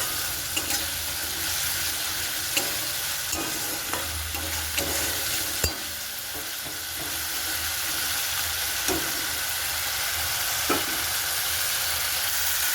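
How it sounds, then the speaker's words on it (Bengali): Masala being stir-fried for a pointed gourd and goat fat curry: a constant close sizzle and hiss of oil, punctuated by sharp intermittent clicks and scrapes of a spatula against the pan. "মশলাটা আর একটু ভালো করে কষিয়ে নেব"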